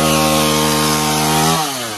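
A chainsaw runs loud and close at high, steady revs, then its engine pitch drops as it slows near the end.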